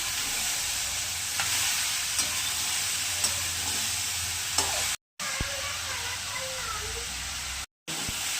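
Broken bay leaves hit hot oil in a pan for a jackfruit ghonto, giving a steady, close, hissing sizzle with occasional soft stirring clicks and two brief dropouts.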